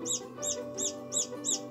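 A Serama bantam chick peeps in a steady rhythm, about five high, clear chirps in under two seconds, close and alone against a soft indoor hum.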